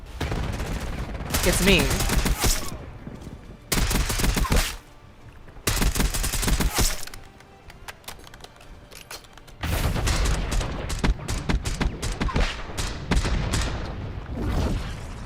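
Black Ops video game gunfire comes in long, dense automatic bursts that stop and start in loud clusters, with short quiet gaps between them and a brief spoken line partway through.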